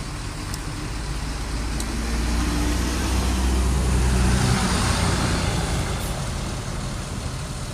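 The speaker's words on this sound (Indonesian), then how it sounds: "ini ada masuk bus Lorena ya dari Pulau Jawa ini" A Lorena intercity bus from Java pulls into the Medan Jaya terminal, its heavy diesel engine rumbling close by. The rumble swells, then eases off in a continuous roar.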